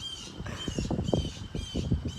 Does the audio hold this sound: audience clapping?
no